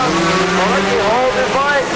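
Racing quad bike engines whine and shift pitch on a dirt track at a speedway, loud and continuous, with a commentator talking over them.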